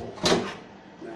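A sliding wardrobe door in a deluxe hotel room in Surabaya is pushed open, giving one short sharp rolling clack close by before quiet room tone.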